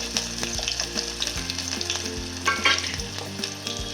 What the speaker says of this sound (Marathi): यामध्ये बारीक चिरून घेतला, छान तेलात लाल होईपर्यंत तळायचा.